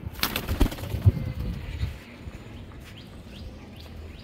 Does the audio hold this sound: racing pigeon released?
yes